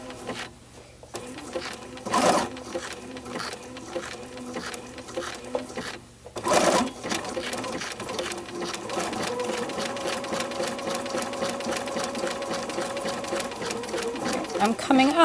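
Sewing machine stitching appliqué along a straight line and around an inside corner, running in steady buzzing bursts with short pauses, then a long continuous run; a person talks quietly over it at times.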